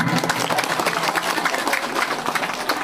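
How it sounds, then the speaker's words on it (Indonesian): Villagers of Abung Sumuli in North Lampung applaud at a campaign gathering, a continuous crowd of hand claps that holds steady and fairly loud throughout, with a faint murmur of voices underneath. "tepuk tangan buat warga"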